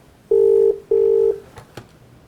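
Two long telephone keypad dialing tones, evenly spaced and loud, from a call placed on another phone, followed by a couple of faint clicks.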